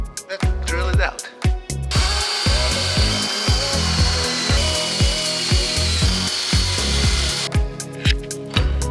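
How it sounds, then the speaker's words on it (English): A power drill bores out a broken bolt head on an Opel Kadett GSI under restoration, a sustained whining spin framed by sharp metallic knocks and clatter before and after. "Let's drill it out."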